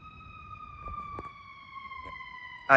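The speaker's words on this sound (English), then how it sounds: "The ambulance just went by." A siren wails steadily at a moderate distance, its tones gliding slowly downward as the vehicle passes, with a sudden loud burst at the very end.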